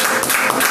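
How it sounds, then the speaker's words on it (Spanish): A church congregation applauding during a Wednesday service, loud dense clapping that fills the whole short moment. "Vamos a dar un aplauso al Señor."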